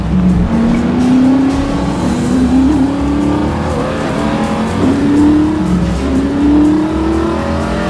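A car drives through city streets in The Saboteur video game, its engine loud and close as it revs up and shifts in repeated rising sweeps over a steady rumble and road noise.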